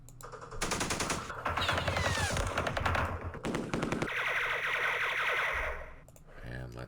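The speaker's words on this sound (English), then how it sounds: "Let's do some firing." Repeated machine-gun bursts and rifle gunfire from a Vietnam War battle in the Campaign Series Vietnam strategy game, loud and sustained for several seconds with crackling volleys that end abruptly.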